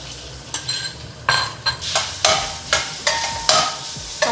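Pork belly sizzling and frying in a little cooking oil, a steady hiss broken by regular scraping stirs of a spatula in the pan, close up and without talk.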